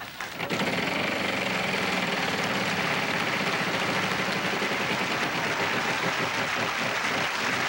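The big wheel on the Wheel of Fortune game show spinning, a rapid, continuous clatter of pegs ticking against the pointer, loud and close and unbroken for several seconds, with faint studio ambience beneath.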